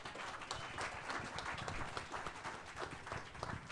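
An audience applauds at a Brazilian public event on citizenship, with dense, sustained clapping from many hands filling the room at an even, steady level.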